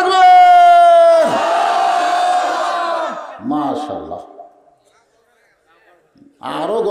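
At a Bangladeshi Islamic sermon gathering, a large crowd shouts the takbir chant back in unison, loud and sustained after a long sung call, followed by a shorter second shouted response and a pause before more voices.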